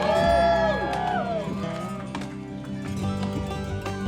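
Spectators at a lumberjack show at Lake of the Falls, Wisconsin cheer and whoop loudly for competing choppers. Scattered sharp knocks of axes biting wood sound beneath the voices as the crowd noise tapers slightly.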